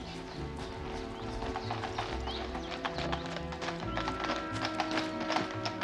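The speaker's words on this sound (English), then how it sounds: "Stop the carriage, Watson!" Horse-drawn carriage hooves clip-clopping steadily on a street, a continuous rhythmic patter of many hoof taps with rolling wheel rumble underneath, fairly close and moderately loud throughout.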